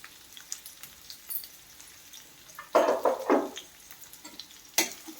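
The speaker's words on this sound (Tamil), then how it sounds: "சேர்த்து நல்லா வதக்கிக்கலாம்." Chopped onion sizzling and frying in a pan for a drumstick and bean tamarind curry, a soft steady crackle that swells into louder bursts of sizzling as the onion is stirred, then settles back.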